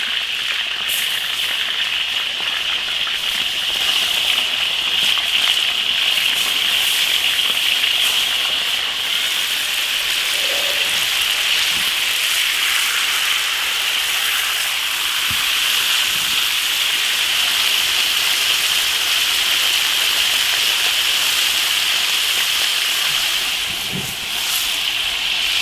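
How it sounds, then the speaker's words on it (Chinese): Fish bones frying in hot oil in an iron wok give a steady, loud crackling sizzle that runs unbroken throughout, with no voices over it. "鱼骨头也煎一下。"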